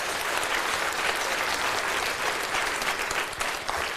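Sustained applause from a church revival congregation, a dense, even wash of clapping from many hands that holds steady for the full four seconds with no voices over it.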